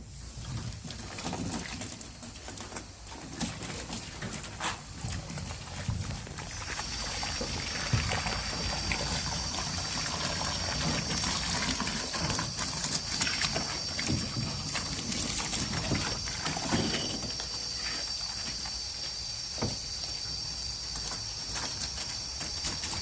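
Water sprays and trickles steadily over an air-conditioning condenser coil being rinsed after Nu-Calgon Tri-Clean cleaner, a continuous hissing wash that stays fairly loud with a faint high whine entering partway through.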